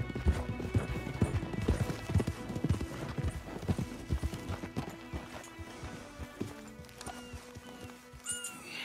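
Horse hooves clip-clop in the Red Dead Redemption 2 game, a steady run of close, moderately loud hoofbeats with an occasional whinny, while faint talk comes and goes underneath.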